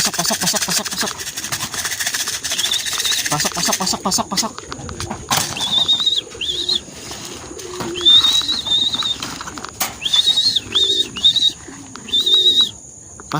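Racing pigeons at a loft coo and call in short repeated bursts, fairly close, with a steady engine-like hum and clatter behind them; no talk over the birds.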